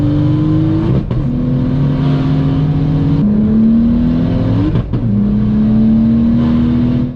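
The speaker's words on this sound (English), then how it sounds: "my car audibly was breaking up, and you can tell something wasn't right" A BMW 335i accelerates hard with its engine breaking up, the steady rising drone repeatedly stuttering and cutting out in brief hiccups before pulling again, loud and close with no talking.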